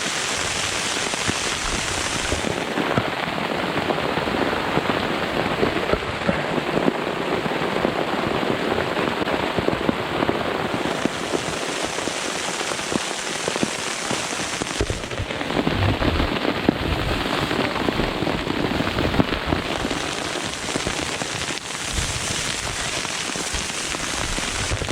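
Hail and heavy rain pelting a BCB Crusader MK2 shelter in a severe storm, a constant dense drumming of hard impacts with sharp individual cracks, close and loud, running unbroken for the full length with no talking.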